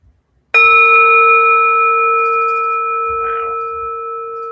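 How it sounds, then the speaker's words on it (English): A meditation bell is struck once, a sharp metallic strike followed by a long pure ringing tone that sustains and slowly fades over several seconds, with a brief soft murmur partway through. "I've got a bell"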